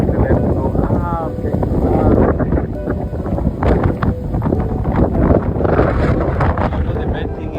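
Strong gusty wind on a Table Mountain hike buffets the microphone in a loud, continuous roar, and brief voices are partly buried under it.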